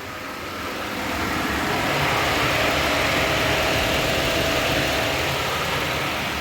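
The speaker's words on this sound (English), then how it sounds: "Engine sounds nice and quiet and smooth." A Pontiac Grand Prix fixer-upper idles in the open, a steady, smooth, fairly quiet engine hum that swells slightly at the start and holds evenly without revving.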